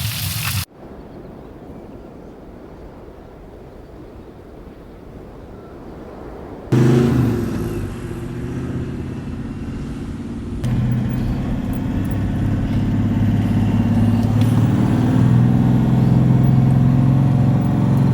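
A vehicle drives through sand dunes, with a muffled engine drone that rises sharply and grows louder and rougher as it climbs, steady and close throughout with no talking.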